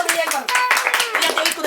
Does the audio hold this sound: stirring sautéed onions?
no